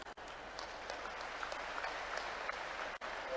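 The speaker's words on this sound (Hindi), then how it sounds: "आप सबकी जोरदार तालियों के बीच।" An audience at a public event in Sheopur applauds, a steady wash of many distant claps at moderate level, continuous for a few seconds with brief dips.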